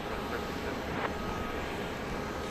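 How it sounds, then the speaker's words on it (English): Boeing 737-800 airliner arriving at Dallas Love Field at night on a flight from Las Vegas, a steady distant jet roar filling the air without a break and with no voices. "Flight 1370 from Las Vegas, a 737-800."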